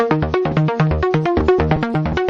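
A dry synth pluck with its effect chain switched off plays a fast, bouncy repeating pattern of short notes with punchy low tones, loud and alone.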